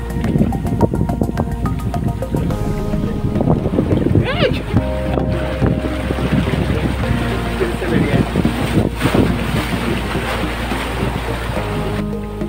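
Sea water surges over black rocks on the shore below Nivati fort, a loud, continuous rushing wash heavily buffeted by wind noise, with voices talking over it.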